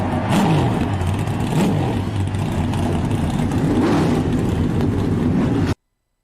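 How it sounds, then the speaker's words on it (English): Race car engines rev in a racing video game, loud, continuous mechanical growl with repeated rising and falling pitch sweeps, then a sudden cut to silence. "Gentlemen, start your engines!"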